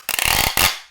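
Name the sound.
tape gun sealing a box, loud screech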